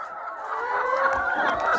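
Old laying hens on an egg farm clucking continuously nearby, a dense overlapping chorus of calls with no talk.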